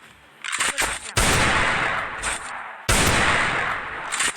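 Video game gunfire in a shooter, loud sustained bursts of automatic fire with sharp onsets and brief pauses between volleys, close and dominant with no talking.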